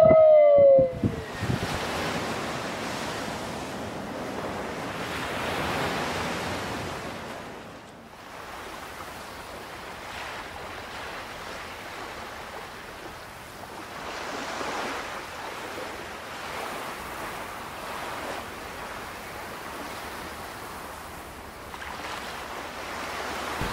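Ocean waves and wind roll around a sailboat at sea during a storm. A loud gust and wave crash come first, then a continuous rushing surge that swells and eases in long cycles, with no voices.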